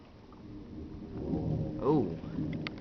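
During a severe storm, a low thunder rumble swells and fades beneath steady rain, with a brief sharper sound near the peak.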